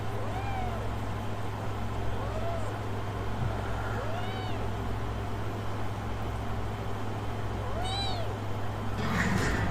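Several cat meows at intervals, fairly faint and mid-distance, over a steady low engine drone inside a moving vehicle on a road trip; two higher meows come close together near the end.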